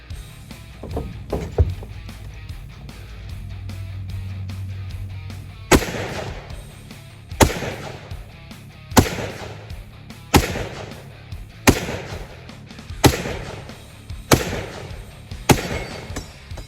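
M1 Garand rifle firing rounds outdoors, around ten loud, sharp reports spaced about a second and a half apart, each with a brief echoing tail, after a quieter stretch of handling clicks and a low hum.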